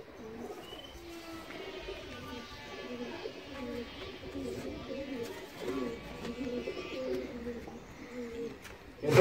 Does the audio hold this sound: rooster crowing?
no